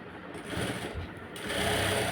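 A sewing machine runs a continuous edge stitch along a sleeve lining, its steady mechanical whir holding close and even for the whole stretch and growing a little louder toward the end, with no talking.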